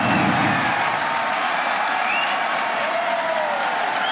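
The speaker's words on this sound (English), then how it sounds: "if you can hear me over the cheering" Loud, sustained crowd cheering and applause at a SpaceX rocket launch, a continuous wash of clapping and shouting from many people.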